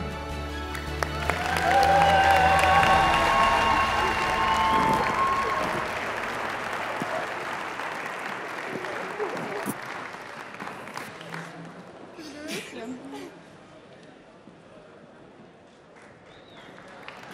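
Audience applause at the Miss Czech Republic 2022 final swells loudly under stage music, then settles into a sustained, crowd-wide clapping that gradually thins toward the end, with a little cheering mixed in.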